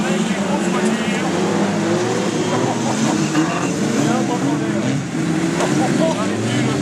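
Large stock cars over four metres long roar together at the start of a race at Caulnes, a loud, steady, dense engine drone with no pauses, heard close throughout.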